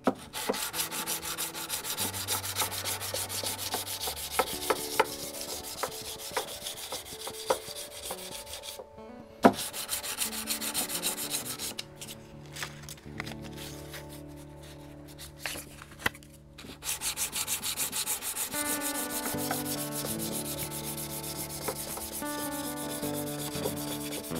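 Steady scraping strokes of sanding guitar frets, close up and repetitive, quieter at low frets and louder at high positions, with a few brief pauses and sharp clicks between passes.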